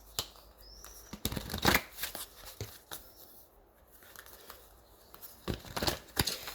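Crystal tarot cards are shuffled close up in a few quick riffling bursts with brief pauses between them, crisp papery flutters and slaps heard on their own.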